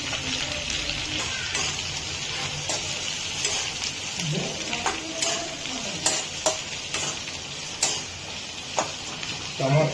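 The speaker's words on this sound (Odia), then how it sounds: "ପିଆଜ ସବୁ ପକେଇଦେବା" Onions fry in a pan with a steady soft sizzle and occasional clicks and scrapes of stirring, fairly quiet, with faint voice at times.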